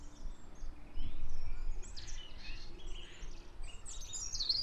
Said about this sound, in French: les petits oiseaux qu'on entend, même s'ils sont décalés parce que je les ai enregistrés hier ou avant-hier, ce sont les oiseaux qui tournent autour de la grange